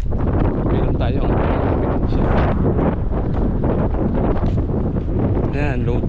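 Strong wind blows across a lake shore at low tide at Buhairah, Al-Khobar, Saudi Arabia, buffeting the microphone in a continuous loud rushing roar with no letup.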